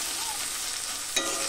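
Spinach frying in a pan, a steady close sizzle with a faint clink near the end.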